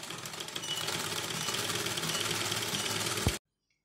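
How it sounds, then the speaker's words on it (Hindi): An electric sewing machine stitches a folded strip of cloth three inches wide. It makes a continuous rapid mechanical whirr for about three seconds, then stops abruptly into silence, with no talking. "इसे आप ऐसे सिलाई मशीन से सिलें"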